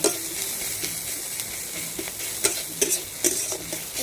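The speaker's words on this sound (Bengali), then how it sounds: "পেঁয়াজ ভাজি হয়ে গেছে" Onions fry in a pan with a steady close sizzle, broken by several sharp scrapes and clicks of a spatula stirring against the metal, no voices over it.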